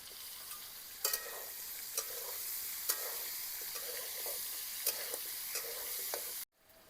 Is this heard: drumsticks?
yes